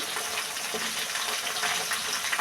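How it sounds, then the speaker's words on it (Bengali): Potato pieces fry in hot oil with panch phoron spices in a pan, making a continuous close sizzling hiss at moderate volume with no speech. "আলু আগে কষিয়ে নিচ্ছি ফোড়ন দিলাম পাঁচ ফোড়ন"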